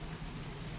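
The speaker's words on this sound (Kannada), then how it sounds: "ಮಳೆ ಬೇರೆ ಜಾಸ್ತಿ ಆಗೈತೆ ನೋಡಿ" Heavy rain pouring down in Mysuru, a steady, dense hiss with no break across a brief moment, fairly soft and without voices.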